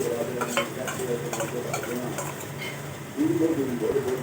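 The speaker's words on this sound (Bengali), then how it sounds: "এবার আমি গ্যাস কমিয়ে দিয়ে টক দই দেবো" Sour yogurt is stirred into masala frying in a pan over low gas for a vegetarian matar paneer, giving a steady soft sizzle with scraping spoon strokes and a brief louder bubbling near the end.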